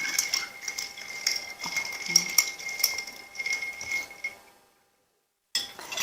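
A cocktail with aromatic bitters gets stirred in a glass, giving light repeated clinks and scrapes of a spoon against the glass. The sound is close but fairly quiet and stops suddenly near the end.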